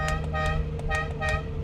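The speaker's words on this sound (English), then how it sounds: "Horn works." Horn of a 1967 Ferrari 330 GTC honking in several quick, loud toots with a steady harmonic tone, close by and alone.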